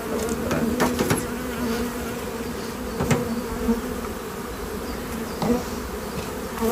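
Dense, steady buzzing of many honeybees at an open hive during inspection fills the air close by, with a few soft knocks and clicks now and then.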